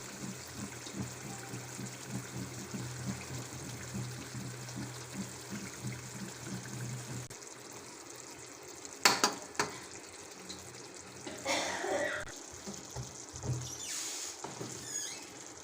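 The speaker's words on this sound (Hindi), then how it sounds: "अब हम इसमें शामिल करेंगे बैंगन" Stuffed eggplants go into hot masala in a pot, giving a low steady sizzle and then a few louder bursts of splashing, stirring and clattering as the pieces are added and settle.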